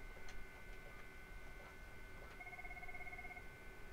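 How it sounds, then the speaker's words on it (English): A Cisco IP phone rings during a test call on a home CallManager Express setup, faint repeating electronic ring tones with soft ticks over background hum. "I'm actually just going to do a quick test phone call here."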